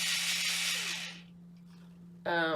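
A 9-in-1 electric cleaning brush whirs at high speed with a steady hum, winds down to near silence, then starts up again sharply at the end.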